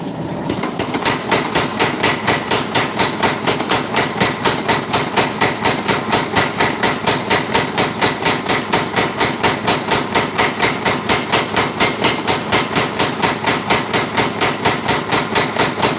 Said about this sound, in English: Next, I'm going to start forging that edge.